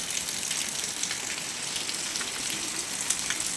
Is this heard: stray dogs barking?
no